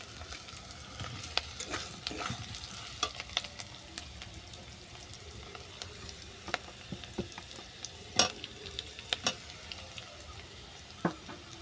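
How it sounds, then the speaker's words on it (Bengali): Onion and vegetables fry in a pan for a red amaranth greens and fish head dish, a steady soft sizzle broken by sharp clicks and scrapes of stirring, close and fairly quiet with no talk. "পেঁয়াজটা 2 মিনিটের মতো ভেজে নেওয়ার পর আমি ভাজা সবজিগুলোকে তুলে দিচ্ছি।"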